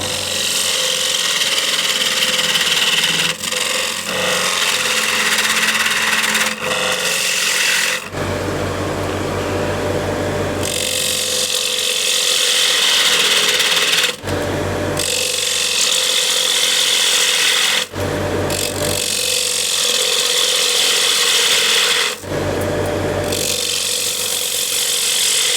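A wood lathe spins a wooden tray while a gouge cuts a taper, producing a loud, steady whirring hum with rough cutting texture, broken by several brief pauses and changes as the tool moves.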